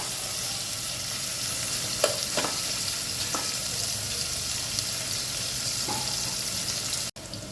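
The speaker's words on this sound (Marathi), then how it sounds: "ब्राऊन रंगावर होऊ द्यायचा आपल्याला कांदा" Onion fries toward brown for village-style chicken biryani, a constant close sizzle with a few light scraping stirs and no talk.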